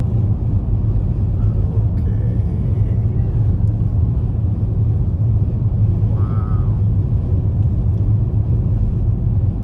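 A pro-tuned EcoBoost Mustang idles while warming up, a steady low engine rumble held at an even level for the whole stretch, with no speech over it.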